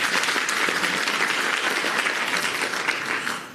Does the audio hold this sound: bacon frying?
no